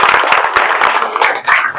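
A crowd at a village political rally claps briefly, a dense patter of many hands held at a steady level for under two seconds.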